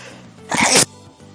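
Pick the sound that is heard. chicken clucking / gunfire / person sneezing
person sneezing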